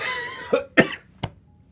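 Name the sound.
cough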